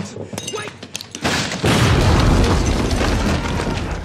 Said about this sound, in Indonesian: Ia tergesa-gesa untuk menerobos masuk sebelum granat yang ia lempar meledak.